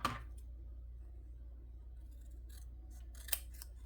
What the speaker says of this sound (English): I do want to use my scissors for circles because it's just easier, but these are so small.